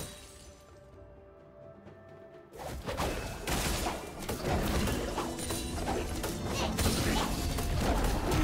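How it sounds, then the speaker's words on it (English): A tower collapses in League of Legends, a loud crashing burst of shattering debris and mechanical rumble that breaks abruptly out of quiet and keeps roaring for several seconds. "Blue team's turret has been destroyed."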